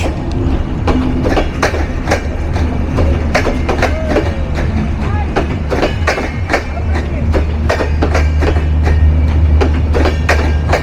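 A long passenger train with 30 carriages rolls steadily past close by at night in Bangladesh, its wheels clacking in a continuous rhythm over a loud, rumbling roar.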